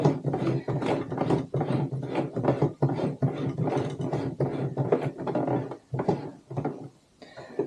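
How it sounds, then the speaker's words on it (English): A sewing machine's hand wheel is turned by hand while sewing a tote bag, giving a close, repeated run of mechanical clicks and ratcheting ticks in an uneven rhythm with no voices. "if you're worried about going too quick, just use the hand wheel."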